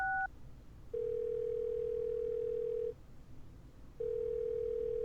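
Ringing telephone in the point-and-click game Thimbleweed Park, set at a 1987 radio station's phone system: a short two-tone blip followed by two long steady electronic rings separated by a pause, loud and alone.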